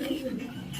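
A pigeon coos briefly in a low, soft, rounded tone at moderate distance, with a steady background hum and no speech.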